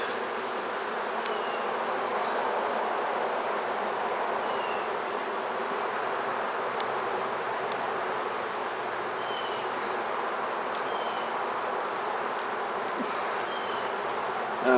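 Honey bees buzz continuously and close by during a beehive inspection, a dense, even hum with occasional individual bees zipping past.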